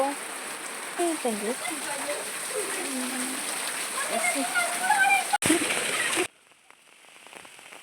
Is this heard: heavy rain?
yes